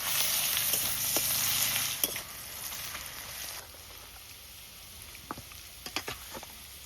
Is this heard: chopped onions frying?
yes